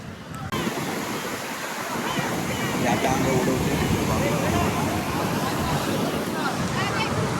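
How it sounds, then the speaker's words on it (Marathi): Steady roar of rough ocean surf on a Goa beach filling the scene, constant and loud, with wind buffeting the microphone throughout. "तुम्ही पाहू शकता लाटा एवढ्या जोरात चालल्यात"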